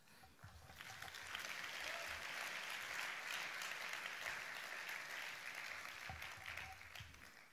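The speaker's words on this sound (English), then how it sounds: "for that, you should give yourself a round of applause" An audience at a conference closing plenary breaks into sustained applause, a dense even roar of clapping that swells and holds steadily, moderately distant, with no talk over it.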